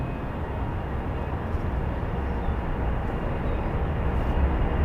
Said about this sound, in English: C-17 on the way. Let's see how much runway she takes.